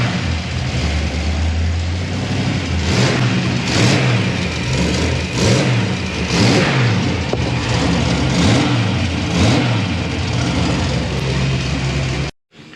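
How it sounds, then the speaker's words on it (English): Twin-turbo engine in a Monte Carlo running close up, with a steady loud drone broken by about eight rhythmic revs that rise and fall every second or so, then cutting off abruptly at the end. "a quick video of the motor running"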